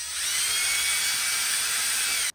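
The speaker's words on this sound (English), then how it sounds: "let's drill a pilot hole here" A power drill bores a pilot hole in wood molding, a steady high-pitched whine held close and loud for about two seconds before cutting off abruptly.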